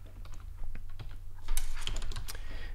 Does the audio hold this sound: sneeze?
no